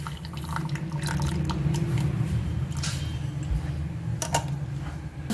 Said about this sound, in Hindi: बोल के ऊपर आपने एक छन्नी रख लेनी है और आपने इसको छान लेना है।